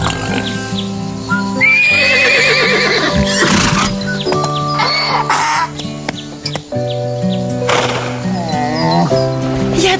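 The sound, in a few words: horse neighing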